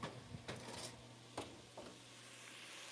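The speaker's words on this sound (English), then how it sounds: "So right now we're frying up our Texas hot link sausages." Faint sizzling of Texas hot link sausages frying in a pan, with a few scraping and stirring sounds of a utensil against the cookware.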